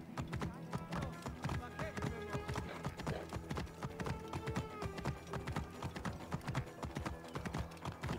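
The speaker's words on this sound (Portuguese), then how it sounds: "Cuidado, cavalinho." Horse hooves clip-clopping in Assassin's Creed Origins, a brisk, continuous rhythmic clatter of galloping steps, close and loud throughout.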